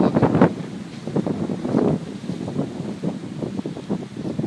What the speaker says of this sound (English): Probably sounds pretty windy out there.